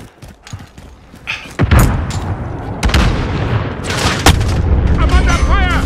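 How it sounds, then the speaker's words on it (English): Video game gunfire during a hardcore-mode match, with heavy booming shots and rapid bursts close and loud over a dense battle din, in-game voices and effects mixed in. "I'm under fire!"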